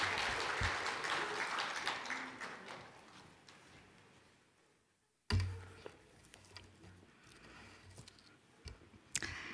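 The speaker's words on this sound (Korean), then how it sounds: "우리 박수로 한번 격려해 주시기 바랍니다." Applause from a church congregation at a Wednesday prayer service, soft dense clapping that fades out over several seconds, then a quiet room with scattered knocks and clicks.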